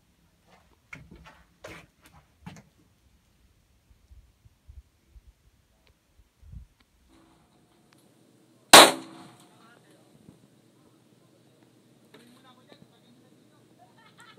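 A single sharp gunshot at target practice cracks loudly and close after scattered quieter clicks and handling noises, followed by a faint low hum and a few small ticks as people speak briefly in the background.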